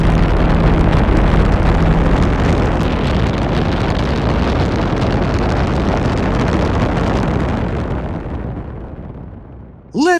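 A rocket engine ignites and launches with a massive, continuous roaring rumble that stays loud for most of its length before tapering off, followed by a brief voice at the end.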